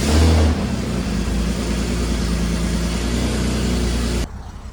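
A Porsche Panamera V6 engine held at a steady, loud drone for about four seconds with a short swell at the start, then cutting off abruptly to a faint background.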